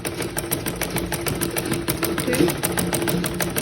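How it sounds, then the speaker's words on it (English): A sewing machine stitches fabric for a shift dress in a rapid, even mechanical rattle that runs continuously, with a voice speaking briefly over it. "you go to your machine and you sew"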